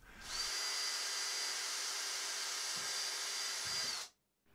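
A power drill whines at high speed for about four seconds, bites briefly under load drilling through a wooden board into plastic, then stops abruptly into silence.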